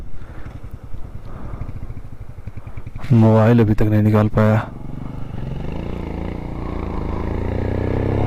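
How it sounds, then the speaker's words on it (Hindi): A motorcycle approaches on a high mountain road at Baralacha Pass on the way to Manali. Its engine grows louder, with a strong honking, horn-like burst in the middle, under steady close talk and wind. "बाइक आ रही है, दिखाते हैं।"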